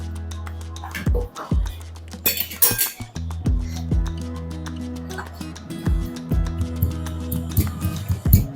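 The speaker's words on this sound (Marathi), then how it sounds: "ताजे मके घेतलेत एक वाटी ते या खलबत्त्यामध्ये हलके हलके आपण ठेचून घेणार आहोत" Fresh corn kernels being lightly crushed in a mortar and pestle: a steady series of sharp, ringing clinks and knocks, close and fairly loud, repeating in an uneven rhythm.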